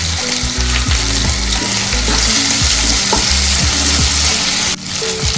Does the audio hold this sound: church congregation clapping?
no